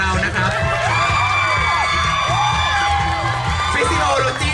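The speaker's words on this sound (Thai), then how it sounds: "ขอเสียงปรบมือต้อนรับดังๆเลยนะครับ" A crowd at a textbook-themed fashion show during a physiology event cheers and whoops continuously, bright shouts and whistle-like cries rising over a steady roar of voices close by.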